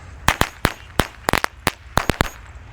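A single pack of small lighter firecrackers (mercon korek) crackles off in a rapid string of sharp, loud pops, irregularly spaced, with no voices.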